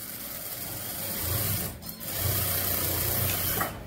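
Sewing machine stitching a piped cross pocket, a close whirring run that pauses briefly and starts again, then stops.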